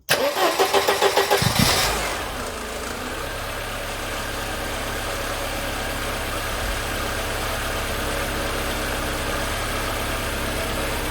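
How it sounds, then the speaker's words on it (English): A Mercedes 190E W201 with a previous no-start and misfire problem cranks with a rapid, steady starter rhythm for about two seconds, then catches and settles into a smooth, even idle that runs loudly to the end with no talking. "So let's get this car started"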